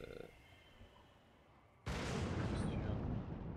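A sticky bomb goes off in Ghost of Tsushima with a sudden loud blast after a quiet stretch of faint background. The explosion then roars and rumbles on through the rest of the clip.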